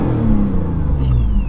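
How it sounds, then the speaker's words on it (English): A Lexus IS300 engine with a newly replaced throttle body rises briefly in a short rev, a close, loud, rough drone with a pitch that lifts and then settles. "Give it a little rev."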